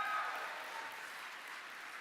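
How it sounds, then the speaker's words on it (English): Audience applause for the nominees at a horror games awards show, a short burst of clapping that fades slightly, heard at a distance. "An applause for everyone"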